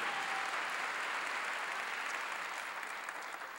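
A church congregation breaks into sustained applause, a steady wash of many hands clapping in a large hall that fades slightly toward the end, with no speech over it.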